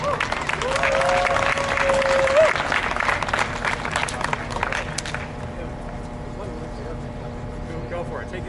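A rally crowd breaks into loud applause and cheering, dense for about five seconds before thinning into scattered claps and murmuring voices.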